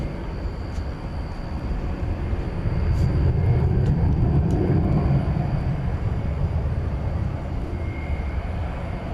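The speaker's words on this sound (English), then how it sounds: "There, on its way to Denver, is American 662 and Airbus A321" American Airlines Airbus A321 at DFW Airport at night, a low, far-off jet rumble that builds gently and stays steady, with faint clicks and no speech.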